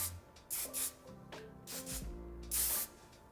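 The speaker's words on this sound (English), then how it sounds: "I'm going in with the Kenra Perfect Medium Spray 13" Several short hissing bursts of Kenra Perfect Medium Spray 13 hairspray onto hair, close and fairly loud, separated by brief pauses, with faint rustling and handling noise between sprays.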